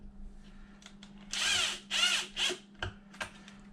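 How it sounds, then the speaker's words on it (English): A power drill whirs in three short bursts close by, spinning up and biting into a bracket for a Traxxas Slash 4x4 receiver box, with clicks and handling noise between. "So just drilling a couple holes in the bracket"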